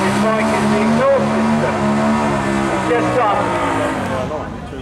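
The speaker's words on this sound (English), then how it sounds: "On the CBR 400RR, 399 cc's. Fairly old machine, goes back to 1992." A 1992 Honda CBR 400RR, 399 cc with a modified exhaust, revs hard during a seaside speed trial, its loud, steady engine note rising and shifting over several seconds under a commentator's talk.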